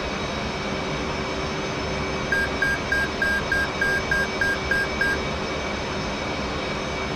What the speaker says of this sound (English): FCS bit is complete, marked by the beep tone